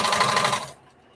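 A sewing machine runs steadily, stitching straight across fabric for a bandana T-shirt dress, its busy mechanical whir close and continuous before cutting off abruptly, leaving quiet room tone.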